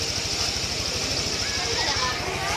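A Honda PGM-FI motorcycle engine idles nearby as it warms up, keeping up a steady low, rapid pulsing throb, with a voice faintly heard over it.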